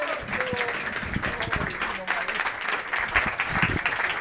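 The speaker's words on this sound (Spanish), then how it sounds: "un gran aplauso para el maestro" Applause from the audience at the opening of a painting exhibition in Tequisquiapan, a fairly steady clatter of clapping that runs under crowd chatter and talk for the whole span.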